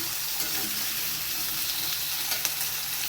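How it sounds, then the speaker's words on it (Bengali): Potatoes frying in hot oil while being stirred around a pan, an even, bright sizzle throughout with a couple of faint utensil scrapes, close and steady, no talk. "আলুটা দিয়ে আমি একটু কুঁচু দিয়ে নাড়াচাড়া করে নিচ্ছি"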